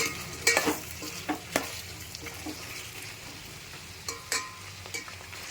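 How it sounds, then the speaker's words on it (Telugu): Potatoes and mixed vegetables fry in oil for a vegetable pulao and aloo peas kurma, with a steady soft sizzle under repeated sharp scrapes and clinks of a spoon stirring in the pan, close by. "ఇవి బాగా ఆయిల్లోనే మగ్గాలండి ముక్క మెత్తబడేంత వరకు వేయించుకోవాలి మనం కొద్దిగా"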